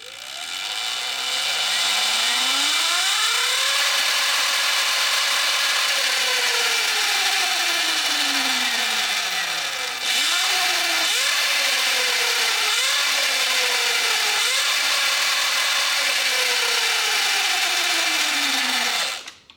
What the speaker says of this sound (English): this is gonna be the 60 volt with the GT4 Gates belt, wide open throttle